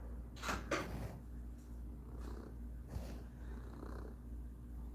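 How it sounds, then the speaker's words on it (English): A gray cat purrs close by while two other cats sit nearby, a low continuous rumble with a few soft rustles and bumps over it. "He is purring up a storm."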